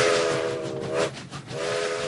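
A steam engine named James gives two sustained whistle blasts as he comes through a railway yard, separated by a brief break, loud and clear with no voices.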